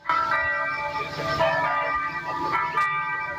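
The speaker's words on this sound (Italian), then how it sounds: "le campane di Premariacco suonano a morto" Church bells in Premariacco toll a death knell, their ringing tones sounding steadily and fairly loud across the whole stretch with a fresh stroke near the end, under a faint background murmur.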